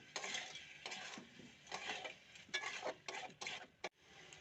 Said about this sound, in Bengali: আগে থেকে সেদ্ধ করে রাখা ছোট নতুন আলু দিয়ে কষিয়ে নেব।